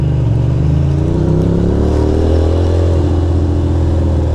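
A BMW S1000RR motorcycle cruising on city streets gives a loud, steady engine hum with a slight rise and fall in pitch, close and constant throughout.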